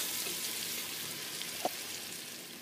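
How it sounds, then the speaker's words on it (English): Onions saute in melted butter with a steady, bright sizzle that holds throughout, broken by one small pop. "the butter is melted down, and it's cooking a little bit, just a little bit of the onions"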